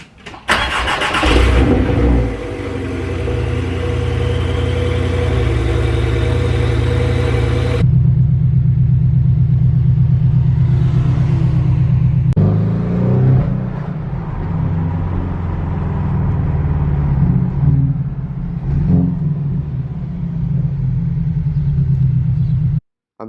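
A Chevrolet Corvette C8 Z06 with a manual gearbox rumbles loudly from inside while driving, a sharp rev at the start settling into a steady, deep engine drone that shifts pitch with gear changes and ends abruptly.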